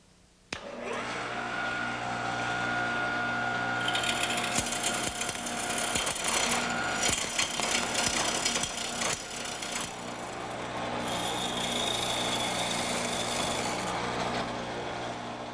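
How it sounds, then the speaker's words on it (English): Wood lathe from a Shopsmith setup turning the outside of a wooden bowl with a bowl gouge: a steady motor hum and whir with loud, rough scraping and cutting bursts as the gouge bites, continuous and close, no talking. "Now the next thing I do is start working with this bowl gouge."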